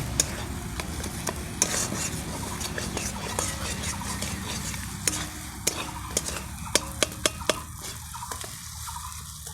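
Paneer butter masala base sautéing in oil, stirred with a spatula, giving a continuous sizzle punctuated by repeated sharp scraping taps against the pan, several clustered near the end; a voice talks faintly in the background.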